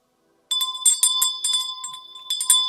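A bell rings repeatedly in quick, bright strikes with a sustained metallic tone, loud and close, starting after a brief silence and carrying on without talk.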